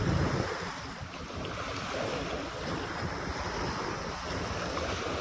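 Sea waves wash along the shore of Manila Bay in a steady, broad roar mixed with wind buffeting the microphone, loud and continuous with no break.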